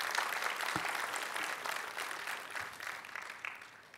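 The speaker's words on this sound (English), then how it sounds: "let's give our graduates a big round of applause today for the great work that they're doing" A large audience at a county high school alternative education commencement applauds the graduates, with sustained, somewhat distant clapping throughout.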